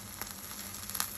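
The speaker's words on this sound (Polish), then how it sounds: "Gotuję sobie omlet." An omelette sizzles in a frying pan with a soft, even hiss and a few small pops, faint and close with no talking.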